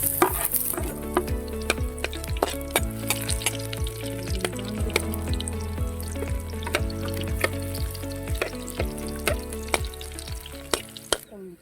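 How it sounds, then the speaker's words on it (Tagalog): Onion and garlic sautéing in a pan: a steady sizzle runs throughout, punctuated by a regular series of sharp scraping and tapping strokes from stirring. "At isunod na natin ang sibuyas at igisa na rin hanggang ang maging isa itong translucent."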